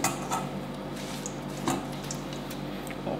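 Vegetables being washed in a kitchen, with water splashing and dripping, wet squishing and light clinks of dishes and utensils, close and moderately loud with no talking.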